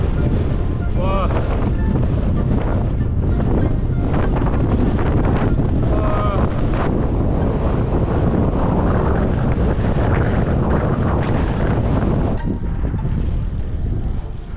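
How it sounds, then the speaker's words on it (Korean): Strong headwind blasts across the microphone on a bicycle tour through North Macedonia, a loud, continuous roaring buffet that stays dense throughout, with brief voice fragments under it. "바람이 장난이 아니에요."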